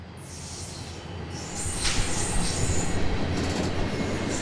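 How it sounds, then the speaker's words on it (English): A CSX freight train led by SD70 Max diesel locomotives rumbles past steadily and fairly close, with low heavy engine drone and a high metallic wheel squeal rising midway. "Both of these trains had SD70 Max leading."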